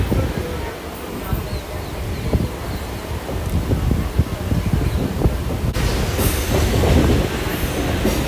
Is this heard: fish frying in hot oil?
no